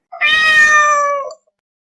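A big black cat lets out a single loud, drawn-out meow lasting about a second, close by and alone with no other sound around it.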